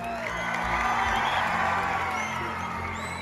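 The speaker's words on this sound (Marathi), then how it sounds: "त्यांच्यासाठी जोरदार टाळ्या" At a college film-promotion event, an audience claps and cheers for a producer, a dense, sustained roar of applause and whoops from a crowd.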